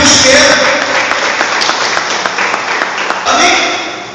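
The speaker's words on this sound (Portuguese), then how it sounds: "Vamos aplaudir o Senhor." A church congregation applauds the Lord together during a Portuguese-language service, a loud, sustained wash of many hands clapping that carries on for several seconds, with the preacher's voice faintly mixed in.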